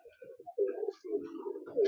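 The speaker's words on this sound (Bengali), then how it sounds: "একজোড়া আবলুক পায়রা তোমাদেরকে শখ করাচ্ছি, গিরিবাজ লাইনের পুরনো পায়রা।" Giribaj-line pigeons coo softly at close range, a few low, rounded phrases following one another over about two seconds with brief gaps between them.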